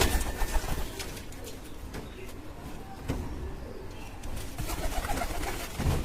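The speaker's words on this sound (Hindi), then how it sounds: "ये वाइट कबूतर है दोस्तों" White pigeons cooing at close range, with soft repeated coos over a steady low background and occasional rustling through the recording.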